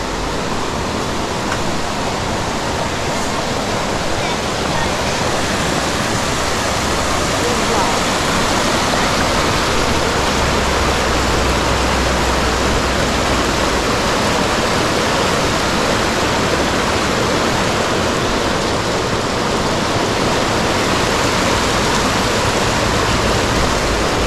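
Forest waterfall pouring into a cold, clear stream, a continuous broadband rush of water, loud and near, steady from start to finish with no talking over it.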